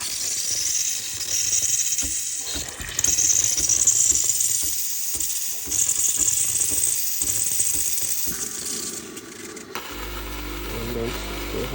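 Breville Barista Express BES870 espresso machine with a faulty steam and hot water selector, switching into steam mode: a steady hissing and mechanical rattle runs for about ten seconds at moderate level, then cuts to a low hum.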